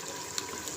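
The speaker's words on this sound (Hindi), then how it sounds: "इसमें डाल देते हैं घी।" Ghee being poured into a cooking pot while preparing chicken feet, a soft steady trickle with a brief faint splash, no voices.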